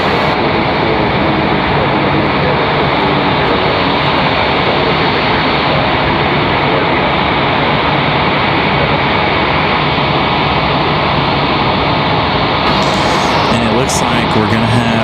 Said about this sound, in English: I'm going to mute until this A319 makes it to the gate